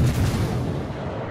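Heavy naval gunfire from the Boise, a Tier 6 premium cruiser in World of Warships Legends, booms out as one dense, loud low rumble that fills the whole moment and slowly fades.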